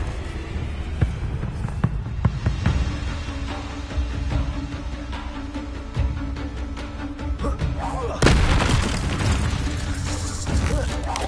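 Confringo fire-blast spell in Hogwarts Legacy, a sharp crackling burst that erupts into a loud sustained roar amid clicking and mechanical sounds, following a shouted spell incantation.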